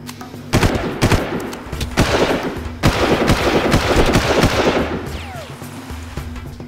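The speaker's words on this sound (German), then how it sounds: "Dabei fahren die gerade vorbei und ballern uns über den Haufen." Dense bursts of automatic gunfire crackle from enemies driving past in the Far Cry video game, rapid loud volleys with sharp reports that ease off toward the end.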